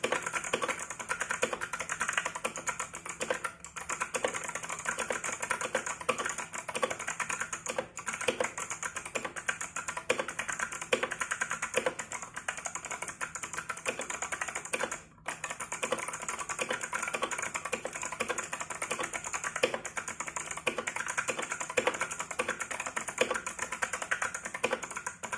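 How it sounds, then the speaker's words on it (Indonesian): Rapid, steady keystrokes on a compact 40% custom-modded mechanical keyboard during a typing test. The clacking is close and continuous, with no one speaking. "dan berikut adalah typing testnya."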